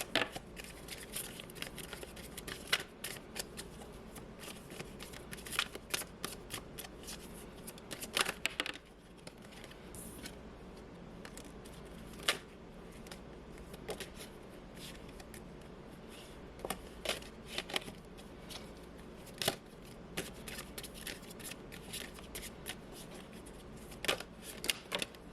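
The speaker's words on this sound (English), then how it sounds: "we will pull a couple of these cards here." Tarot cards are shuffled by hand in a quiet room, giving repeated soft riffling and crisp card slaps at close range, steady throughout with no speech.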